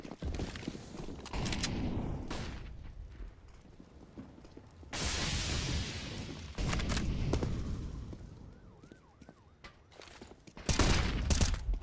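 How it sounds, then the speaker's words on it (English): Shotgun fire in Counter-Strike: Global Offensive comes as bursts of loud blasts and clatter, separated by quieter stretches with scattered footsteps and distant impacts. "Murray State has decided to go full shotgun."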